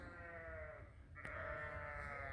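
Purebred Dorset sheep bleat at sunset in a barn, one drawn-out call fading and a second, louder bleat following right after, close by over a low steady rumble of background noise.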